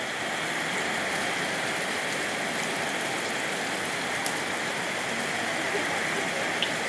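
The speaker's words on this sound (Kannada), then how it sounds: "ನೋಡಿ ಗಾಯ್ಸ್ ಮಳೆ ಬರ್ತೈತೆ" Heavy rain pours steadily onto a rural road and surroundings, a dense, even hiss that stays loud and unbroken throughout, with a few faint drips standing out.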